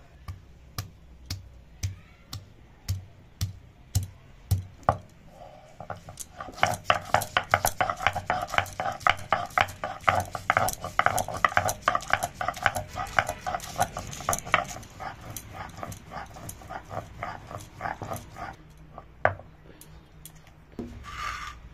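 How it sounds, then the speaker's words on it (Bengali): Ginger and garlic ground into paste on a stone slab, heard as a steady run of rhythmic scraping and knocking strokes, sparse at first and then quickening into a dense, continuous grinding rhythm that eases off near the end. "আদা রসুনটাও বাটবো।"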